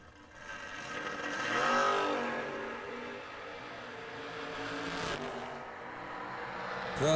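A blue Camaro drag race car accelerates at a bracket race, a loud broadband engine roar that swells over the first two seconds, then holds steady and gradually recedes.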